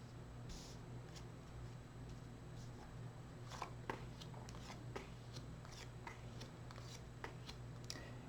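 Aquarian tarot deck cards being shuffled and handled close up, quiet soft riffles and flicks in a series of short bursts over a low steady hum.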